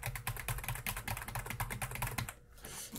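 Fingers typing quickly on a computer keyboard, a close burst of crisp, rapid key clicks for about two seconds before stopping, with no voices.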